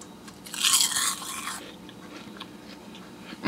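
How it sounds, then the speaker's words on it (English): Close, loud crunch of a crispy wasabi soy kale chip with black sesame being bitten, a sharp crackling burst followed by softer chewing crunches. "the only way I can prove to you how crispy they are is by tasting one"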